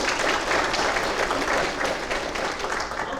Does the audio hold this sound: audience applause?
yes